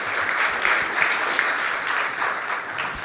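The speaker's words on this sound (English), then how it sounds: "can I have a huge round of applause for Rakesh" Steady, dense applause from a large audience at an investing event, loud and continuous for a few seconds with no one speaking over it.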